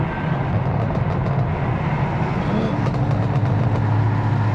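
A 2026 BMW M4 Competition xDrive with a catless exhaust and valves closed holds a low, steady droning rumble while downshifting, close and fairly loud with no distinct pops or sharp changes.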